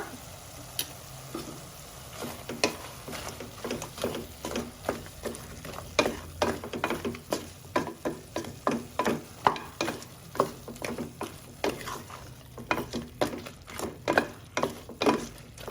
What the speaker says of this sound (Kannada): ಉಪ್ಪು ಹಾಕೊಂಡು ಫ್ರೈ ಮಾಡ್ಕೊಂಡ್ರೆ ಮಾಂಸ ಎಲ್ಲ ಚೆನ್ನಾಗಿ ಉಪ್ಪು ಇಟ್ಕೊಂಡಿರುತ್ತೆ